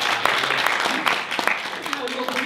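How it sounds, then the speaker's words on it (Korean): Applause from fans at a film preview fan event, with scattered clapping under a voice that carries on talking throughout. "박수 한번"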